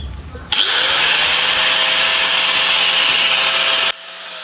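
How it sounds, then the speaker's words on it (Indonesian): A steel sickle blade is sharpened against fine sandpaper on a spinning power tool, a loud, steady high-pitched grinding hiss that starts abruptly, holds evenly for about three seconds, then cuts off. "ini sudah saya ganti amplas yang halus, ini enggak panas, pokoknya untuk pengasahan"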